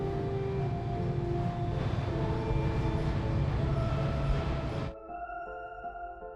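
A train in the Plan B: Terraform game rumbles with a steady mechanical drone and whine that cuts off abruptly near the five-second mark, leaving a quieter hum.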